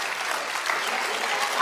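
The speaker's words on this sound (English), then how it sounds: "Stop all that clapping." An audience claps through a short burst of dense, steady applause, with a voice rising briefly over it near the end.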